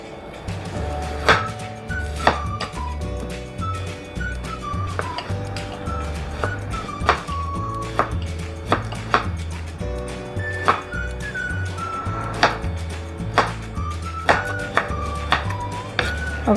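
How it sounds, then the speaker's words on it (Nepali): A knife chopping a peeled mango into pieces on a board, with sharp, close taps falling in irregular bursts over a backdrop of music. "अब आँपलाई टुक्रा पारौँ।"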